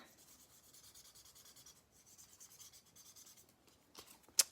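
Oiled pen nib rubbed across paper to wipe off excess oil during craft work, soft close rasping strokes repeated in quick rhythm, faint and steady, ending in a sharper scrape.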